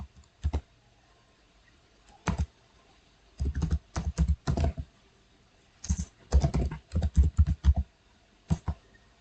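Router configuration commands typed on a computer keyboard, heard as close, crisp bursts of clicking keys separated by short pauses, with no talking.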